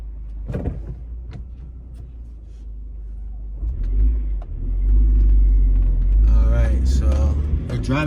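A car drives through city streets, its engine rumble and road noise steady and close, swelling louder midway, while someone talks over it.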